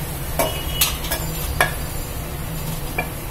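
Flattened rice (aval) is roasted in ghee in a pan, giving a soft background hiss broken by a handful of crisp scraping clicks as it is stirred.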